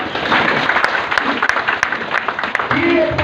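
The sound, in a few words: applause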